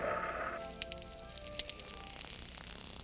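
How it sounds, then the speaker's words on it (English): A dolphin's echolocation clicks: rapid trains of sharp clicks crackle underwater against a hiss, the clicking speeding and slowing in bursts. "The clicking sound you hear is really a dolphin's most powerful sense at work."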